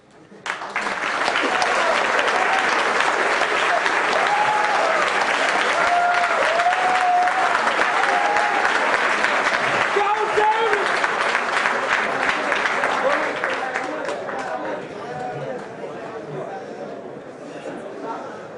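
Assembly audience applauds after a candidate's speech, a long, loud, dense wash of clapping that holds steady for about twelve seconds, then thins and fades, with voices and a few whoops mixed in.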